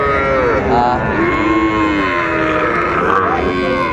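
Cattle moo repeatedly at the traditional Ambari livestock market, a busy weekly haat where young bulls and heifer calves are sold, with long low calls rising and falling over constant crowd noise.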